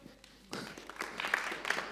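Applause from a comedy club audience breaks out after a quiet half-second and keeps going as a dense, steady wash of clapping.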